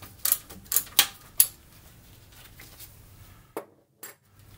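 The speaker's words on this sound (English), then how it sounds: "Our next step is to remove the 3/8 inch upper starter mounting bolt. I'm using a 9/16 inch wrench." A 9/16 inch wrench works loose the 3/8 inch upper starter mounting bolt on an Atomic 4 engine, giving a few sharp metallic clinks and clacks in quick succession, then two softer taps after a pause.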